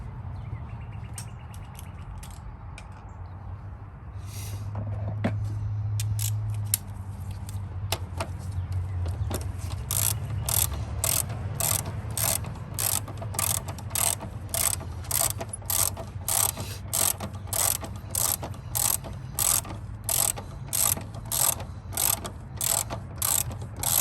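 Ratchet wrench clicking steadily while snugging the bolts on a Honda Civic's passenger-side upper control arm, a fast regular series of close, crisp clicks that runs through most of the stretch after some softer fumbling and handling noises.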